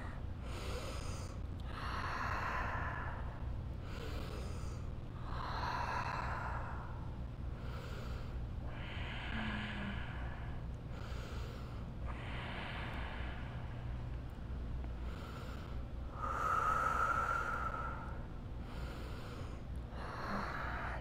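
Slow, deep breaths taken in yoga puppy pose, soft rhythmic inhales and exhales repeating roughly every two seconds, close and steady over a low background hum, with no talking.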